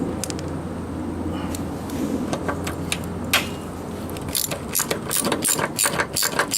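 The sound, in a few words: ratchet tightening small bolts on a John Deere 62D mower deck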